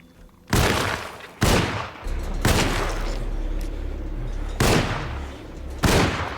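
Gunshots in the game Alone in the Dark, five loud, sharp single blasts spaced irregularly, each with a booming tail, over a steady low background rumble.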